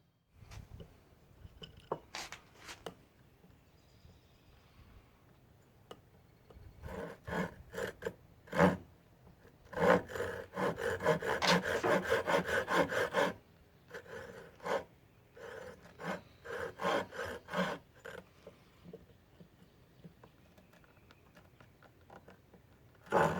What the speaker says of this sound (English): I can just make the score down here, cut it off even up here